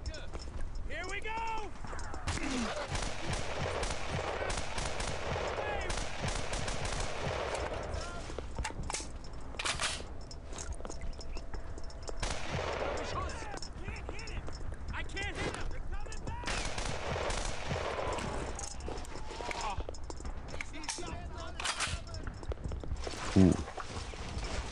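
Repeated rifle and machine-gun fire in the World War II shooter Brothers in Arms: Earned in Blood, in dense bursts throughout under frequent shouted voices.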